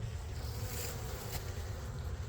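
Honey bees buzz during a hive inspection, a steady, dense drone that holds evenly for the whole moment with no break and no voices.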